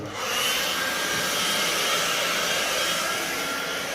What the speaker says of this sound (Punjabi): ਡਰਾਇਰ ਨੂੰ ਆਪਣਾ ਹਿਸਾਬ ਨਾਲ ਚਲਾਓ ਇਹ ਬਿਜਲੀ ਬਹੁਤ ਖਿੱਚਦਾ ਹੈ